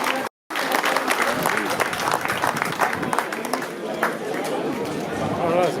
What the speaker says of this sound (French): vous pouvez l'applaudir